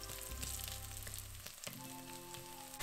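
Curry leaves sputter in hot oil for Punjabi kala chana, an abrupt crackling sizzle close by over a steady low background hum, no voices present.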